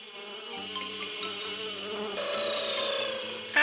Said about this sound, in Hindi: मैंने जादुई मच्छर बुलाए हैं, उनका झुंड आता ही होगा।